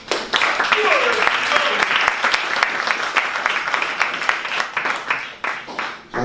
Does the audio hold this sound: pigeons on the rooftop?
no